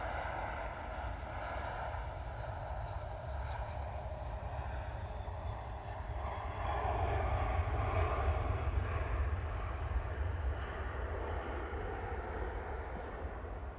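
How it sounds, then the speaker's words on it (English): A British Airways airliner arrives from London Heathrow, its jet engines producing a steady, loud roar that swells slightly midway and holds without a break, with no voices. "With the British Airways arrival. Coming in from London Heathrow."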